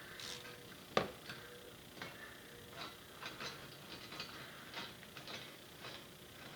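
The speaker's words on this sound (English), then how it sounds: "take your 5/16 socket, put it on your ratchet, and tighten your hose clamps down" A ratchet with a 5/16 socket tightens hose clamps while a Smittybilt overhead console goes into a Jeep Wrangler TJ/JK: quiet, scattered ratcheting clicks in short bursts, with one sharper knock near the start.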